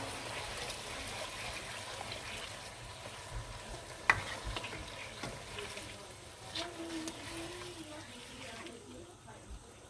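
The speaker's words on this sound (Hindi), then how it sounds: "ये पेस्ट है, मैं इसमें ऐड करके थोड़ा सा मिक्स कर लेता हूँ।" Garlic and ginger paste fries in a karahi for a street-style chicken karahi. A soft, continuous sizzle runs throughout, broken by occasional stirring scrapes and one sharp clink of metal, with quiet talk faintly in the background.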